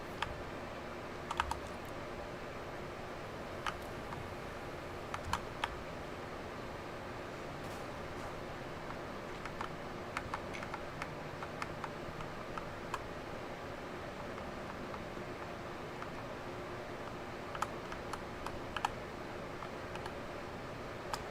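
Steady soft key clicks from a computer keyboard during mouse-and-keyboard play of Saints Row, quiet and close, with scattered sharper taps over a faint hiss for about twenty seconds.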